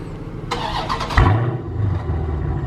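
A car at a Raleigh, North Carolina car meet with its engine catching and running, a brief rough burst followed by a steady low rumble close by, with background crowd noise.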